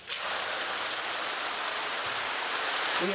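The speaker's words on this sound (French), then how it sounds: "je viens de mettre en marche la cascade pour la piscine" A pool waterfall feature at a luxury villa running after being switched on, a loud, constant rushing wash of falling water that starts abruptly and continues steadily, close by, with no talk.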